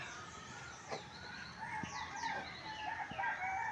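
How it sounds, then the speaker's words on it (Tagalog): Outdoors, chickens cluck in short bursts while a rooster crows nearby, the calls overlapping against a quiet farmyard background. "At may isa pong manok na naligaw."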